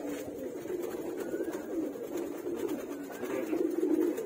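Fancy pigeons, including Jacobins, coo in a loft, with low rolling throaty calls repeating steadily and fairly close, growing a little louder toward the end.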